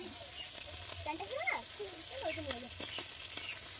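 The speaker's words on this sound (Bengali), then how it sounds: "আমার কিন্তু নিমের ফুলটা কিন্তু ভাজা হয়ে গেছে" Neem flowers and fish frying in a pan produce a faint, continuous sizzle, quiet and close, while a person talks over it.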